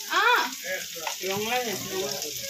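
Food fries in a pan with dried fish, a steady close sizzle and crackle continuing throughout while a voice speaks over it.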